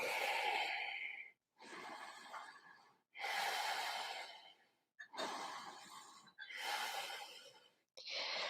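Slow, deep breaths during a yoga flow, each long audible inhale or exhale separated by short pauses, close and clear with about six breaths in a steady rhythm.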